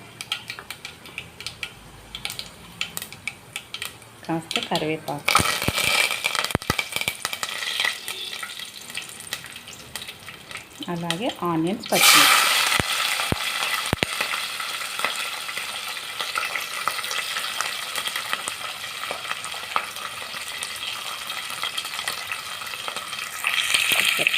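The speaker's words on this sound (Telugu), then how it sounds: "ఇలా కాస్త శనగపప్పు మినపప్పు కూడా వేస్తున్నాను" Chana dal and urad dal fry in oil for a brinjal gravy curry. A quieter crackle jumps to a loud, dense sizzle as ingredients hit the pan, surges again midway, then holds steady with stirring clicks and no voices.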